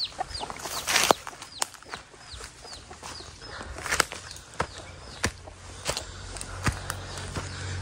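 A mother hen in a rural yard gives repeated soft clucks in a loose rhythm, with a few sharper calls and faint footsteps nearby, close and clear, with no talking.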